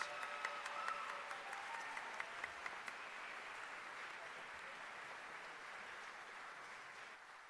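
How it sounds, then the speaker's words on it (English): Audience applause for the six 2017 Cartier Women's Initiative Awards laureates at a live awards event, a broad, steady wash of many hands clapping that holds evenly from start to finish without fading. "giving one more round of applause for our 6 laureates for the 2017 Cartier Women's Initiative Awards"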